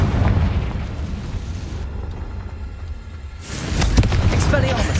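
A Confringo spell blast in the video game Hogwarts Legacy sounds as a loud, close burst of booming, crackling noise that drops off briefly and then surges again in a second heavy explosive rumble.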